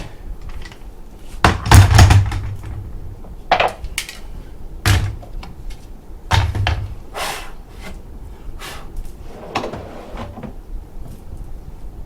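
A wooden soft-close drawer is slid and fitted into a coffee bar cabinet, giving several hollow thunks and knocks spaced over the span, with softer handling clatter and small scrapes between them, fairly close and with no talk.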